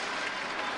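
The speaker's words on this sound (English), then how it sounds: "applause and approval from Klauser" Crowd applause fills a table tennis arena at a world team championship match between Germany and China in Moscow, a steady dense wash of clapping sustained briefly at close, even loudness.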